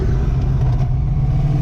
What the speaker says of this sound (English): So the car definitely has an exhaust leak